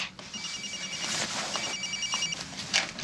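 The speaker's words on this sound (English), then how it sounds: "Are you gonna answer it? I'll just put it on vibrate." A telephone rings in a quiet indoor room, its electronic ring repeating in steady bursts across the clip at moderate, fairly close volume, with no talking over it.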